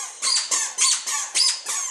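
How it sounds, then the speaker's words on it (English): Squeaky toddler shoes chirp six times in steady succession, bright shrill squeals from small footsteps close to the microphone, alone without any voices. "Did you get some squeaky shoes?"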